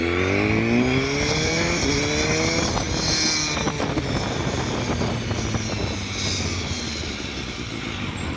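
A 2016 BMW S1000R motorcycle engine runs steadily and loudly throughout while riding, its revs rising and falling in a continuous droning tone with road and wind noise underneath.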